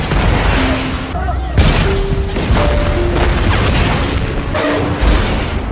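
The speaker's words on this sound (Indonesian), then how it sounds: "terjadi sebuah ledakan di tengah jalan" Two heavy booms burst out a few seconds apart from an explosion in the middle of a road, over a noisy, rumbling background, with faint tones running between them.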